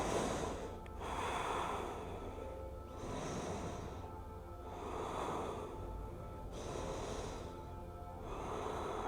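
Slow, deep breaths during a yoga pose, drawn in and let out in an even rhythm of three, close and fairly soft, with no talking.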